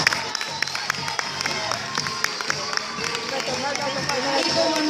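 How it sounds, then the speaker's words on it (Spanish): An audience at a school play claps, a busy patter of hands that builds steadily and grows fuller toward the end, with a voice speaking over the start. "Un aplauso para ellos,"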